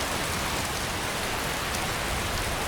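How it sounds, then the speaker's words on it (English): Steady rain falling in the video game Draugnarok, a dense, even hiss of drops on surfaces that stays constant and fairly soft throughout, with no voices. "I wonder if we should get some shelter. Wait out this rain."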